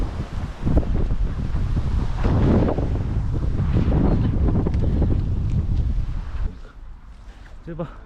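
Wind gusts buffet the microphone in a strong, steady low rumble through most of the outing in a Porsche 981 Boxster, with voices talking over it before it eases near the end.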